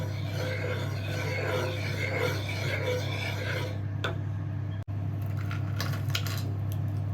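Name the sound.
stirring oats payasam after adding jaggery syrup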